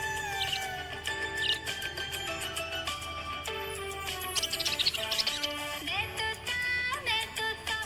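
A happy budgie chirps and warbles continuously, bright tweets and trills close by over a low steady background hum, with no talking.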